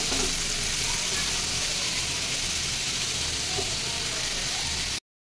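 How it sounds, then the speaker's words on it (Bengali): Grated bottle gourd fries in mustard oil in a pan, giving a constant, even sizzle and hiss that runs unbroken until it cuts off abruptly. "যতক্ষণ এখানে লাউ ভাজা হচ্ছে"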